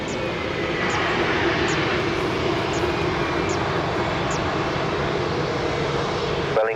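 An airplane at Lisbon Airport, painted in a retro livery, gives off a steady, fairly loud engine roar that holds evenly throughout with no break.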